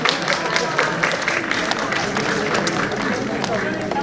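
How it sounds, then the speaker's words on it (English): Audience claps loudly for dancers at an Asian Heritage Month community celebration, a steady crowd applause with some murmuring mixed in. "Huge round of applause for them"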